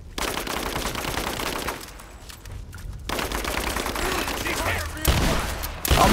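Rapid automatic gunfire crackles in Rise of the Tomb Raider, sustained bursts of loud shots with a brief lull before the firing resumes and a sharp blast near the end.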